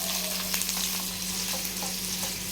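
Tomato pieces frying in a small pan produce a dense, even sizzle that stays close and steady, with faint stirring ticks scattered through it.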